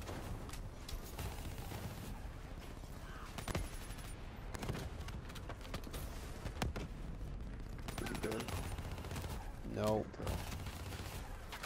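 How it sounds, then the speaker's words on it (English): Gunfire in the Black Ops 3 video game: rapid bursts and scattered single shots crackle through a dense battle din, with voices talking over the shooting. "He's shooting at me"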